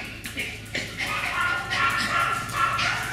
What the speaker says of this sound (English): Here's our little Schnockerpoo puppy playing with my Yorkie Annie.